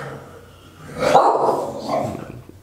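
A dog lets out a loud, close bark that rises into a rough, drawn-out woof, then a softer follow-up, against a quiet room.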